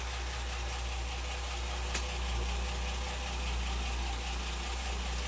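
A Ford Granada 3.0GL automatic idles steadily after start-up, a low even engine rumble with a faint metallic tick near the two-second mark, no voices over it.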